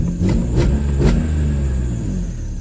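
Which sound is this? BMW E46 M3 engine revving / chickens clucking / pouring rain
BMW E46 M3 engine revving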